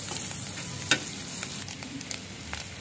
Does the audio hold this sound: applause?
no